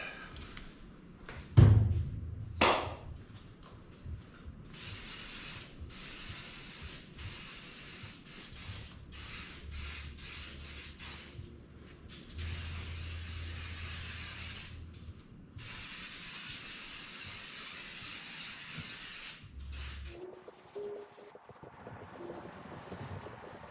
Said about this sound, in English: use the aerosol version today